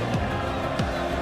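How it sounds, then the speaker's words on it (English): Crowd at a Call of Duty: Black Ops 6 esports group-stage match cheering for the Falcons team, a dense, steady roar of many voices with a couple of rising shouts. "Falcons getting the deserved love from the crowd."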